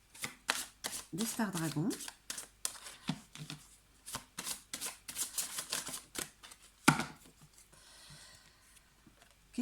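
Star Dragon tarot cards shuffled by hand to draw an advice card, a quick run of crisp papery riffles and flicks, close and clear, with someone speaking French between them.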